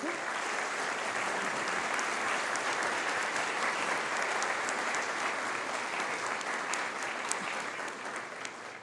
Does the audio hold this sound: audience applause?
yes